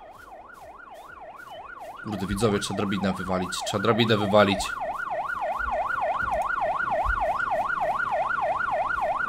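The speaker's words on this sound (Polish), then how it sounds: "Zobaczymy, gdzie ta karetka pojechała." An ambulance siren wails in a steady, loud, fast up-and-down cycle from start to finish, close by, while someone speaks briefly over it in the middle.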